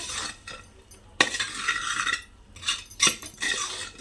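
Ingredients for drumstick leaf soup are stirred in a pan, with irregular scraping bursts of a spoon against metal, a few sharp clinks, and a faint sizzle between strokes, close and intermittent.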